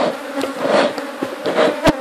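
Honey bees buzz steadily and close by at full hive boxes during a honey harvest, their drone rising and falling as individual insects pass near, with a few sharper flyby peaks.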